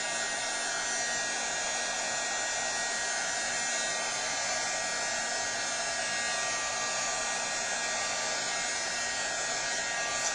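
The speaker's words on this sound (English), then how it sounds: "helping them dry it with the heat tool" A heat tool blows steadily to dry Moonshadow Mist sprayed on craft paper, a continuous loud whooshing hum with no breaks for about ten seconds and no talking.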